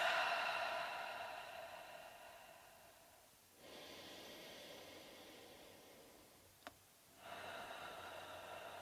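Slow, audible exhalations through the nose or mouth during a seated chair yoga breathing exercise, two long soft breaths separated by a pause, with a brief click between them.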